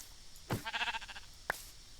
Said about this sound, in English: Here we have another sheep.